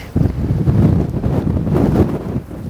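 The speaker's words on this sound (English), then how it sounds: "trying my best not to get blown away by this wind here" Strong gusting wind buffets the microphone on a city street in Toronto's Koreatown near Christie Street, a steady low roar rising and falling for several seconds with no talk over it.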